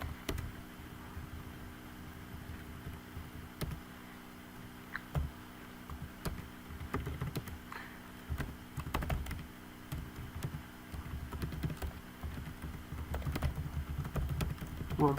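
Keys on a computer keyboard are typed steadily as an online registration form is filled in, with quick irregular clicks in close bursts over a low, constant room hum.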